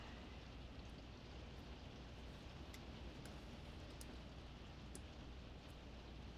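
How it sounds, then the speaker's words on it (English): Steady rain coming down outdoors in Arizona, a constant even hiss with no break, faint and distant, with a few tiny high ticks scattered over the wash. "It's raining today."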